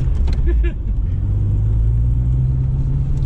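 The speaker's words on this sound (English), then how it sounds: "Don't do a burnout on my grass now" A car engine rumbles and revs loudly on grass during an attempted burnout, with a voice talking over it near the start.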